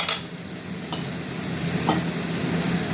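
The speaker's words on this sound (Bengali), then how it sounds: "এবার আমি মশলাটা ঢেলে দিচ্ছি।" Spice mix sizzling and frying in a pan with tomato for a banana-flower ghonto recipe, a steady loud hiss with a few soft stirring scrapes and clinks.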